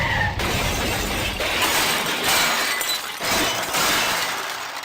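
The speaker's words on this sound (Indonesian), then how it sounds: "Yang kami yakini itu adalah suara kecelakaan." A loud accident crash bursts out as a sustained wash of shattering glass and debris that stays dense and noisy for several seconds, with no voices.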